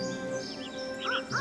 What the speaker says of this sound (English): There's another bird here.